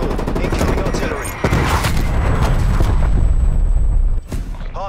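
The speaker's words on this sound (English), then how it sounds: "incoming artillery" Heavy artillery and rapid gunfire pound through a Call of Duty: Black Ops Cold War multiplayer Domination match, a loud sustained barrage with booms that cuts off abruptly near the end, game voices faintly beneath.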